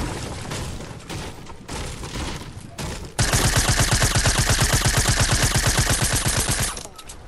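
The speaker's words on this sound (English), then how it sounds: "all I can hear is shooting" Fortnite gunfire: scattered shots and game noise give way to a loud, sustained automatic burst of evenly spaced rapid shots lasting several seconds, then it stops abruptly.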